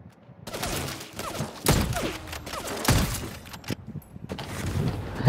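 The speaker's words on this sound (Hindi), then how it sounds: "बम फेंक दिया।" Bomb explosion in the online game Vampire: The Masquerade - Bloodhunt, heavy booming blasts and bursts of rapid gunfire landing in quick succession, loud and close, with no one speaking.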